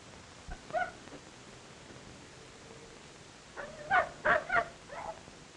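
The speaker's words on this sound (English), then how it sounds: "a mighty fierce dog you've got there" A dog in a 1940 desert western gives a short whimper, then a brief cluster of sharp yips and barks, fairly faint against a quiet background.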